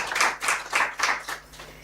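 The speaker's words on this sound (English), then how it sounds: "Let's give Professor a round of applause as he exits." A few people clap for a departing professor at an African congress on digital sequence information, with about six rhythmic pulses of hand claps that fade toward the end, close and moderately loud, with no talking.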